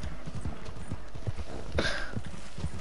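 Horse hooves from Red Dead Redemption clop in a quick, steady rhythm, close and clear, with a brief brighter rustling burst midway.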